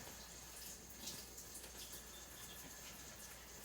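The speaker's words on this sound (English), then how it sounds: "I'm just adding some water in it, so that way it won't be as thick." Water poured from a container into a cooking bowl to thin a mixture, a steady, continuous splashing stream heard alone and close.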